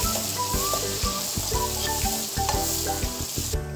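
Finely chopped tomato hits a pan of golden onion, ginger, garlic and green chilli for spinach dal, sending up a loud, steady, hissing sizzle with rhythmic scraping as it is stirred. No voices are heard.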